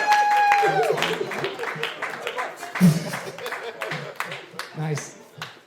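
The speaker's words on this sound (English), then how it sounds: "Everybody, get a round of applause for Kristin, Rowan, and Dantes" Applause and scattered cheering from a comedy club audience at a roast battle. The claps are sharp and uneven, and a voice talks over them as they fade.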